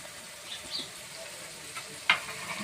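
Brinjal curry (oro) with freshly added coriander stirred in a pan on the stove, a soft sizzle with scattered scraping strokes and one sharper clink of the spoon near the end, close and fairly quiet.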